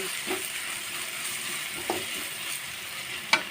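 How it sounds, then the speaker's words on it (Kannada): Onions frying in a pan for egg rice, giving a soft, even sizzle with a few brief clicks of the utensil against the pan, close and quiet, no one talking. "ನೋಡಿ ಫ್ರೆಂಡ್ಸ್ ಈರುಳ್ಳಿ ಚೆನ್ನಾಗಿ ಫ್ರೈ ಆಗ್ತಾ ಇದೆ"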